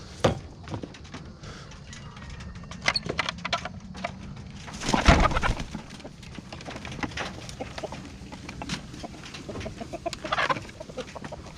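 Free-range chickens cluck and squawk as they are let out near green electric poultry netting, a busy mix of near and farther calls with one louder burst midway, no talk.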